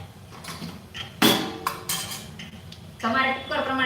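A pressure cooker lid is set in place and locked shut with a sharp metallic clank and a few smaller rattles of steel, close by, with a faint voice in the background.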